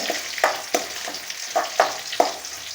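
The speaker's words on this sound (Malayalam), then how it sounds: "കുറച്ച് കറിവേപ്പിലയും കൂടെ ഇപ്പോൾ ഇടാം പിന്നീട് വീണ്ടും വീണ്ടും വേറെ കറിവേപ്പില ഇടണം ഇതൊന്ന് ചൂടാവട്ടെ" Curry leaves crackle as they hit hot oil for a home-style beef fry, giving a handful of sharp, close spitting pops over a soft steady hiss.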